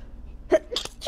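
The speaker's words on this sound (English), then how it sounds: "I'm gonna sneeze." A single close human sneeze: a short intake, then a sharp, loud burst with a brief tail, recorded indoors.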